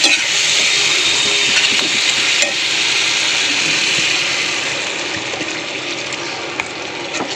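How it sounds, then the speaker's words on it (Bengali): Water poured into a pan of frying tomato, onion and spice masala for a fish curry sets off a loud, steady steamy hiss that eases slightly toward the end. "আমি এর মধ্যে সামান্য একটু জল দেবো"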